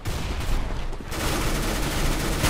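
Gunfire in the shooter game Counter-Strike: Global Offensive, dense noisy bursts filling the short clip with a brief dip before a steady wash of shots continues.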